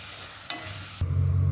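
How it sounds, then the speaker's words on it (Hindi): Grated tomatoes go into a hot pan and are stirred, giving a short scrape followed by a sudden loud, steady sizzle of frying. "अब हम इसमें हमारे ग्रेटेड टमाटर डाल देते हैं और अब अच्छे से चला देते हैं"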